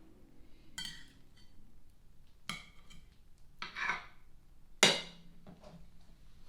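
Knife slicing through raw yams on a cutting board, a few separate crisp cuts and knocks against the board, spaced irregularly and fairly quiet, with no talking.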